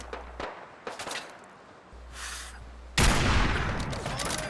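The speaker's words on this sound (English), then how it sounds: "How many 50 cal shots does it take to drop a guy?" Bursts of .50 caliber rifle gunfire aimed at raiders in the video game Fallout 4, a few sharp separate shots followed by a louder sustained blast of firing near the end, with no talk.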